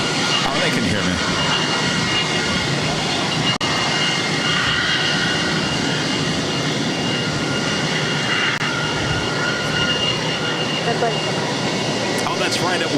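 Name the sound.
Frontier Airbus A320neo jet aircraft engines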